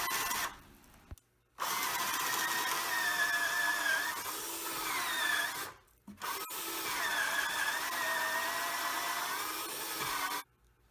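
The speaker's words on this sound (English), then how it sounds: "To reinforce the new leg, I'm going to drill up into the old part of the leg" Power drill boring up into the old wooden leg of an antique Sheraton chest of drawers, two steady whining bursts, loud and close, separated by brief pauses.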